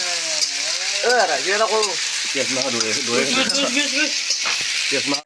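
Meat sizzling and frying steadily in a pan, a loud continuous crackle throughout, with a voice talking over it.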